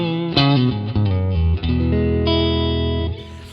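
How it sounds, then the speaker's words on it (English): An electric guitar plays a few sustained chords and notes with a clean tone through a Fender Deluxe Reverb amp. The last chord rings out loud and close, with no talking. "jump back to this Deluxe Reverb, and you're going to hear why the cleans on a Deluxe Reverb are just uniquely like Fender-y"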